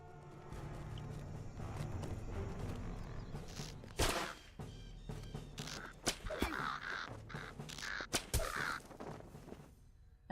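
A crow cawing in a video game, several harsh caws spaced out over quiet in-game ambience with thuds and footsteps, moderately close.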